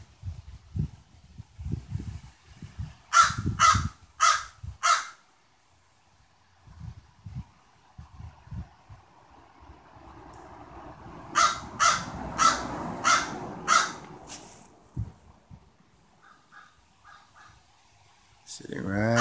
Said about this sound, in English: we're watching one of her enemies, Mr. Crow, right there in the tree